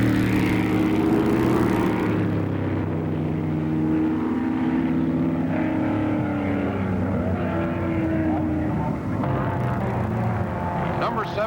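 Mid-1960s Grand Prix race cars, a McLaren Ford and a Lotus 40, roar past in a steady pack of overlapping engine drones with shifting pitch, loud and continuous, while a commentator talks over the noise throughout.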